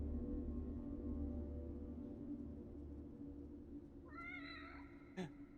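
A cat meows once in The Evil Within, a short rising-and-falling call near the end over a steady low game ambience hum, followed by a brief sharp sound.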